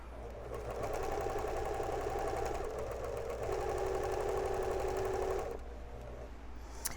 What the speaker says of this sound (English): I'm just sticking another one under and going to town sewing